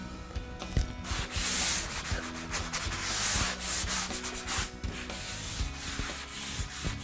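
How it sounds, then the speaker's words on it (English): Steady hand sanding over a seam repair, a continuous gritty rubbing with light back-and-forth strokes, close and fairly loud with no talk. "when you sand the seam, you don't sand the middle too hard"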